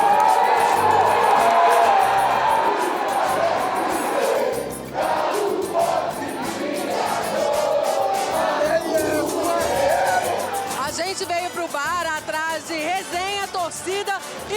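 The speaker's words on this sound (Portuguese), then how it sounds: "Torcida e gol" A huge stadium crowd at the Maracanã roars for a Galo goal, loud sustained cheering and chanting that eases back, then a commentator's excited voice carries over the still-rumbling crowd.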